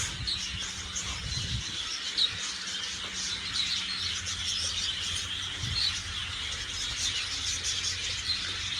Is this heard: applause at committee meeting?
no